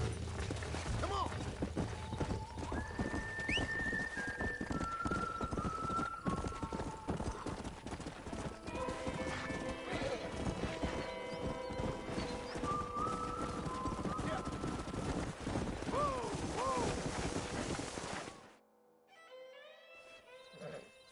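Horse hooves clip-clop steadily in a Western video game set in 1911, with horses moving along under a continuous layer of ambient music and brief voices; the hoofbeats stop near the end as the scene quiets.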